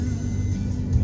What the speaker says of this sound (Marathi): इकडे पण ट्रॅफिक लागते ना.